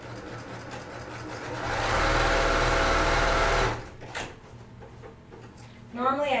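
A sewing machine quilts a small jelly roll fabric coffee cozy, its steady mechanical hum running loud and continuous for a few seconds before stopping, followed by brief rustling and a short voice at the end.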